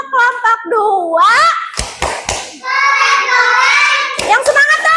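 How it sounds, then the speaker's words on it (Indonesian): Schoolchildren in an Indonesian classroom chant a rhythmic cheer in unison to praise a group. A few sharp hand claps punctuate the sung voices midway through. "Tepuk keren untuk kelompok 2."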